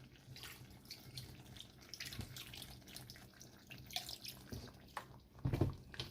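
Mushroom broth poured into a pan for vegan meat, a soft continuous trickle of liquid with small splashes and drips, moderately close and steady, swelling briefly near the end.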